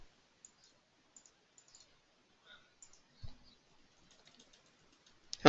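Sparse computer mouse clicks while working through a software dialog, small sharp ticks scattered singly and in pairs, faint and close, with a louder thump near the end.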